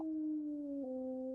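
A dog howls in the medieval role-playing game Kingdom Come: Deliverance, one sustained mournful tone gliding slowly downward and shifting pitch near the end, loud and close with nothing else heard.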